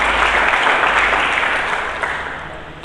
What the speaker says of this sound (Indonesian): Mari kita berikan tepuk tangan yang meriah bagi Yesus Tuhan.